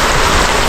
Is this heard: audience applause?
no